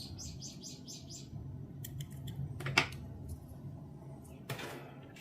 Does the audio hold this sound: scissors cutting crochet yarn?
yes